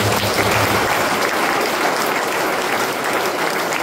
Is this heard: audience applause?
yes